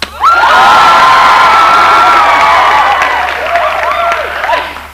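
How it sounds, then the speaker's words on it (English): A television studio audience bursts into loud applause and cheering with whoops and high shouts, sustained steadily for nearly five seconds close up before tapering slightly at the end. "it lights up in the audience there, and they applaud."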